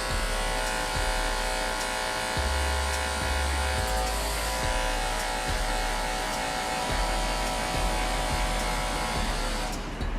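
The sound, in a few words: Andis BGRC hair clippers cutting hair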